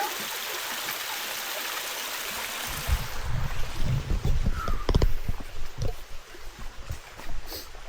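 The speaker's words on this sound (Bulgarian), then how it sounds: "Виж какво. Водопад." Mountain waterfall and river on Vitosha, a steady broadband rush of falling and flowing water, close and continuous, with footsteps or knocks on rocks growing louder in the second half.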